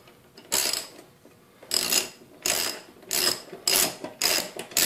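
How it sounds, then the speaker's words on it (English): Repeated ratcheting bursts from a 9/16 ratchet loosening the blade bolt on a Craftsman lawn mower, six close, loud clicking runs separated by short pauses, no voices. "All you do is take your 9/16 ratchet and righty-tighty, lefty-loosey"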